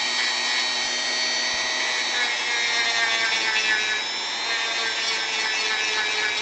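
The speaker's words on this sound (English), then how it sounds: "I'm going to get a grinder here and kind of just sand it off a little bit" A grinder runs continuously close by, a steady high whine with rough sanding hiss as it gently sands down a small part of a model kit, no talking.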